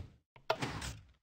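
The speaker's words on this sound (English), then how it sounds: "So our door opens." A door swings open in Minecraft Bedrock Edition, triggered by a hidden redstone ID lock: one short, close wooden clack with a soft sliding tail, alone and fairly quiet.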